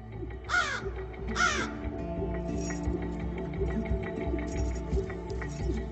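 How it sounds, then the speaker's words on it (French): Two loud crow caws sound close together at the start, followed by quieter calls under a steady low hum. "Les croassements de cet adulte pourraient bien sauver la vie de son petit."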